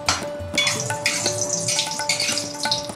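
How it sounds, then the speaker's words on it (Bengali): Whole garam masala of cardamom, cloves and cinnamon, with two dried red chillies, crackles in hot oil for a bottle gourd rezala, sputtering and popping at close range among light clinks of a spatula against the pan. "এবার তেলের মধ্যে আমি দেব একটু গরম মশলা ফোড়ন।"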